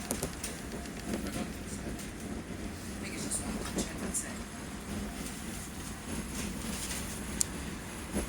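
A London tram running between Beckenham Junction and Wimbledon, a steady rumble of wheels on rail with faint clicks and rattles inside the car, and some indistinct background noise.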